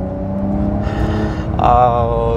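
A Porsche 911 Carrera 4 GTS engine drones while driving, a loud tonal hum with layered harmonics that steps up in pitch partway through as the revs climb.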